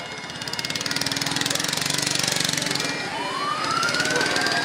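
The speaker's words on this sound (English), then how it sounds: "Look, a little bitty police car, little bitty." A small police car in an outdoor parade sounds its siren, a rapid pulsing warble over a sputtering small engine, followed by a rising wail, moderately loud and close.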